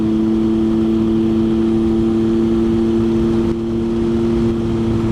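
A vehicle accelerating on Hwy 28 leaving Deal's Gap, a steady mid-pitched engine drone with a constant hum, loud and close, holding fairly even throughout with a slight dip near the end.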